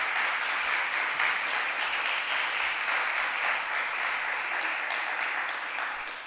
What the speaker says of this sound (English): I think we can give her a round of applause for that.